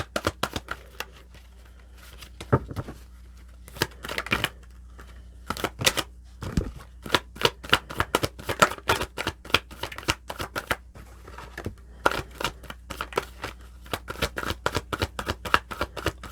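Tarot cards being shuffled and drawn up close, giving repeated crisp riffling bursts and soft flicks and slaps of cards spread out over several seconds.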